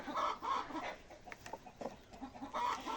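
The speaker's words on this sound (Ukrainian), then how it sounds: "Тут ще є дві квочки. Ось ось як вони гарно купаються." Hens clucking while dust-bathing in a yard, several soft, repeated clucks and short calls close by, moderately quiet with scratching and rustling between them.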